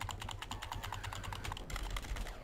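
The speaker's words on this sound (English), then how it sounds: "Keyboard sounds intensified." Rapid, steady computer keyboard typing clatters close up for the whole stretch, with the keystrokes growing a bit louder and denser near the end; no one speaks.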